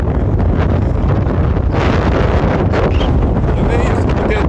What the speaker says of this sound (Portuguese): E o vento!